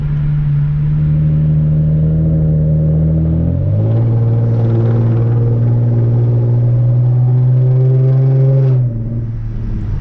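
Hyundai Genesis Coupe engine pulling under roughly one-third throttle, a steady close drone whose pitch drops at a shift near four seconds and then climbs smoothly while accelerating, ending with a slight dip as the throttle eases; no talking.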